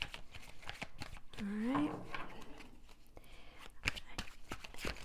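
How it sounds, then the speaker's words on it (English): A deck of reading cards is shuffled by hand in quiet, repeated papery riffles and slides close by, with a brief vocal hum partway through. "Let me do a little shuffling here"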